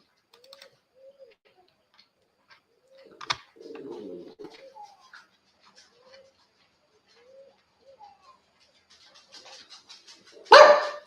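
An owl's soft, low hooting calls repeat at intervals in the morning, fairly distant, with a brief rustling noise midway and a sudden loud burst near the end.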